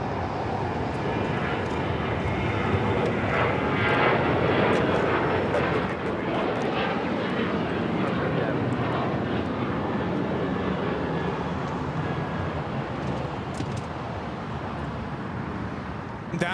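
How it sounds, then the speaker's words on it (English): A United Airlines Boeing 737-900ER takes off from LAX toward Houston, its jet engines producing a loud, steady roar and broad hiss that peaks early and then slowly fades as it climbs away. "That was United Airlines 1571 taking off to Houston Intercontinental on the 737-900ER"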